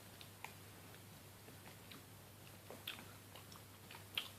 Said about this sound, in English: it makes the peppercorn softer and easier to kind of crunch and chew